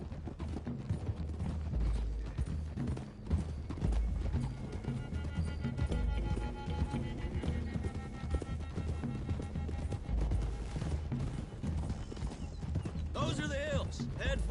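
Horses gallop with steady clip-clopping hooves across a Red Dead Redemption 2 game landscape, a continuous thudding rhythm under a voice, with a whinny near the end.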